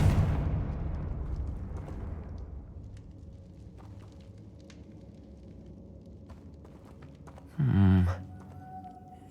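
A Confringo blasting spell goes off in a Harry Potter video game: a loud, booming blast that rolls away over a couple of seconds into quiet ambience, followed later by a short, bright magical burst.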